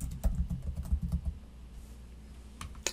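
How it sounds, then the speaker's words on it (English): Typing on a computer keyboard, a quick run of close, crisp key clicks that thins toward the end, with no talk. "So I'll type in TI-84"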